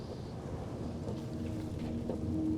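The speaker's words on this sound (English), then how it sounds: "Safi mentioned Maya, and oh God, the storm." Thunderstorm ambience from the video game Life is Strange Double Exposure: a steady, dense wash of heavy rain with low rumbling thunder rolling underneath, loud and continuous throughout with no voices.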